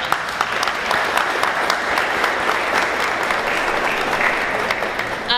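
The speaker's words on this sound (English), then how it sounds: "Let's give them all a big round of applause." Steady applause from an audience fills the room without a break, a dense patter of clapping greeting the city officials and police staff at a mayor's public event.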